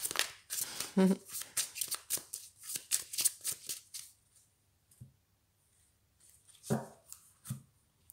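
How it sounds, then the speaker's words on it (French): Tarot-style cards being reshuffled by hand for a timeless card reading, a quick run of papery riffling and flicks close by, with someone speaking in French over and between them. "je remélange"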